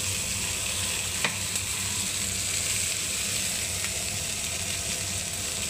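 Cauliflower and beans sizzling in a hot pan, an even, close hiss of frying with a couple of faint utensil clicks and no talk.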